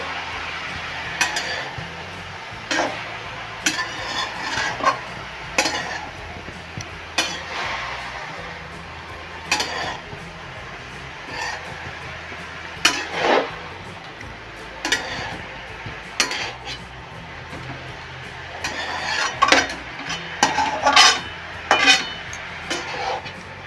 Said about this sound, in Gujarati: ઘીમાં આપણે ગાજરના છીણને મિક્સ કરવાનું છે।